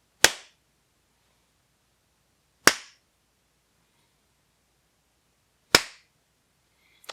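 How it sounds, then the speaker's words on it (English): Hands clap alone during a camera latency test: three single, sharp, loud claps spaced a few seconds apart in silence, each with a brief decay, plus a faint fourth at the very end. "I'm gonna clap my hands."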